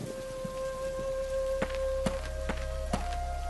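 Heavy rain falls around a woman sheltering under a tree in an animated Hindi story, a steady wash of rainfall with a few sharp drop-like knocks and faint sustained tones beneath.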